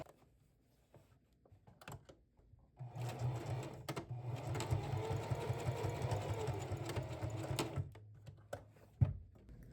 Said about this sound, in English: So now we're going to go sew.